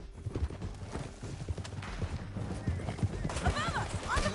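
Horse hooves clip-clop steadily in Red Dead Redemption 2, a quick rhythmic trot close by, mixed with voices talking and faint whistling tones near the end.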